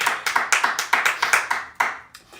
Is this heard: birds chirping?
no